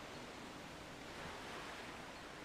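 Flowing river water at Zora's River in the video game Twilight Princess: a steady, full broadband rush of water, even and continuous throughout, with no talk over it.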